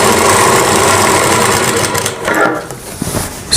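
Sewing machine running steadily while stitching a Rajputi suit kurti, a continuous close mechanical whir that eases off and stutters near the end.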